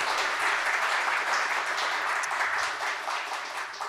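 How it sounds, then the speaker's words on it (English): A full room claps for participants at a robotics debate event, steady, dense applause throughout that tapers slightly near the end, with no talking over it. "let's have a big round of applause for our debaters."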